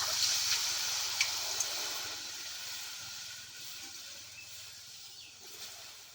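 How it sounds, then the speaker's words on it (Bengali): Potatoes boiling in water in a covered wok, a soft steady hiss of steam and bubbling that fades slightly, faint and without talking. "আমি এখন ঢাকা দিয়ে আলুগুলোকে সিদ্ধ করে নিব"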